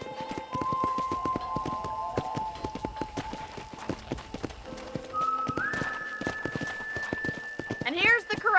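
Rhythmic clip-clop of horse hooves trotting along at a ranch in the video game Red Dead Redemption, with people talking over it and a brief whinny-like sound near the end.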